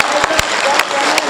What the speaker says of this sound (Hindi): कम तालियां हैं साहब।